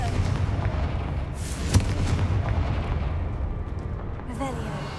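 Confringo blasting spell exploding in Hogwarts Legacy, a rumbling blast with a sharp crack near the middle and crackling debris trailing off, among other game effects and a brief voice.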